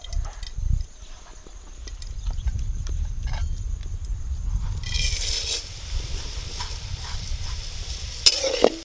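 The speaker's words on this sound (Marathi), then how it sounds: "आता आपण शेवया भाजत आहोत।" Vermicelli is stirred and roasted in ghee in a hot pan over a wood-fired stove, with soft scraping and a gentle sizzle that grows brighter partway through, plus a few clinks.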